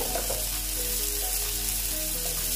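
Kankrol, or spiny gourd, fries in a pan with a dense, loud and even sizzle that holds steady from start to finish, close up and with no voices over it.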